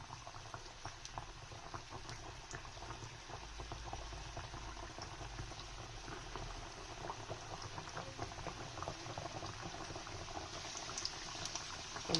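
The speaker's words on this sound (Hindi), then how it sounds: "अब देखिए ये स्लो फ्राई हो रहा है" Sindhi pakwan dough slow-frying in hot oil over a low flame, a steady soft bubbling and crackle with faint popping throughout, close and even, no talking.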